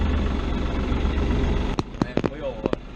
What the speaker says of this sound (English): we get the tractor on the trailer here